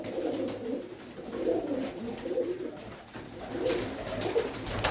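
Desi pigeons coo in a loft, with repeated soft, throaty warbling calls that rise and fall in short overlapping bursts at close range.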